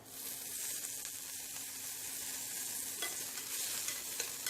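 Onions and curry leaves frying in a hot pan for a Tamil prawn roast: a steady, crackling oil sizzle that runs continuously, close and fairly quiet.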